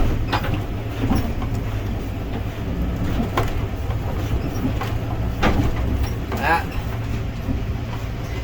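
Self-propelled Mil Stak bale wagon driving over rough ground into hay bales in Nevada, a steady droning engine with rattling knocks and clunks, with a person talking over the machinery.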